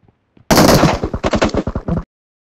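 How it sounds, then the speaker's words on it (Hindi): Automatic gunfire in the mobile battle game PUBG Mobile: a loud, sustained rapid burst of shots that breaks into a rhythmic string of distinct cracks before stopping abruptly, with a couple of faint shots just before. "मेरी गोलियां चल रही थी"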